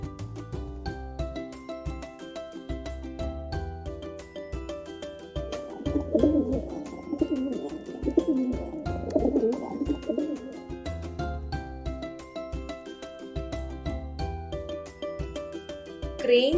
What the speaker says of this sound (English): Pigeons sounds coo.